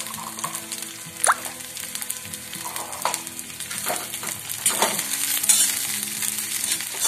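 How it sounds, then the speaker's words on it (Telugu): Coriander and onions frying in hot oil, a steady crackling sizzle throughout with occasional louder pops and stirring scrapes, close up and with no talking. "ఈ కొత్తిమీర క్రిస్పీ అయ్యేసరికి ఎల్లిపాయలు కూడా ఏగుతాయి అన్నమాట"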